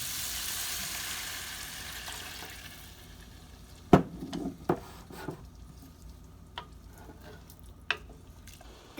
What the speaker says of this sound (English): Next, I'm going to add in water and stir.